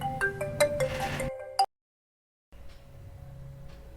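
A telephone rings with a bright, melodic electronic ringtone, a run of close, repeated tones that cuts off after about a second and a half, followed by a brief silence and then a faint, quiet room hum.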